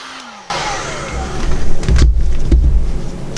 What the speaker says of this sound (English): we're going to go around and just heat it just a little bit.